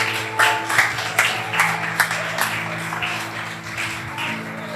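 Church congregation at an evening service clapping, scattered and moderate with a loose rhythm of claps over a steady low musical drone, somewhat distant in the room.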